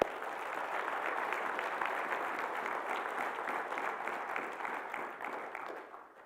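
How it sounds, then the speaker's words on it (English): A church congregation at Mass claps together in steady, even applause that holds for about five seconds and then fades, fairly soft and diffuse in a large room. "Give them a clap."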